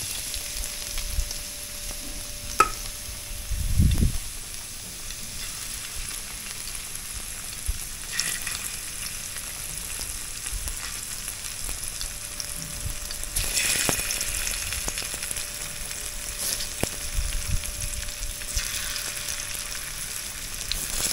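Garlic frying in hot oil on a gas stove, a continuous close sizzle with crackling pops, a low thump early on and occasional light clinks throughout.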